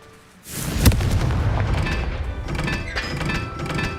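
A Confringo blasting spell in Hogwarts Legacy bursts with a sharp loud boom and crackling debris that rumbles and fades over a few seconds, with no voices.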